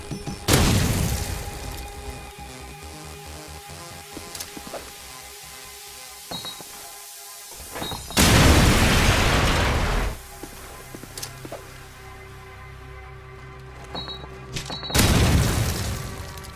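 Three grenade explosions from Call of Duty 4 on the Crash map land several seconds apart, each a loud broadband boom with a rumbling tail, between quieter in-game mechanical sounds.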